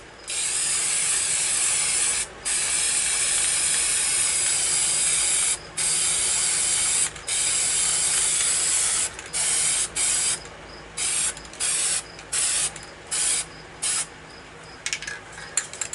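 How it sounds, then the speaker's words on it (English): A can of cheap white spray paint mists over artwork in long, steady hissing bursts, which then break into shorter puffs with brief gaps, close by. "So now I'm going to take this quick color, cheapo white, make a nice mist down here at the bottom of the mountain"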